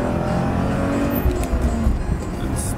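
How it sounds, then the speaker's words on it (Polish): A car engine revving and accelerating, a steady loud drone with a brief rise in pitch and a few surges partway through, heard from inside or close by. "Auto pali może dużo, ale ma przyspieszanie."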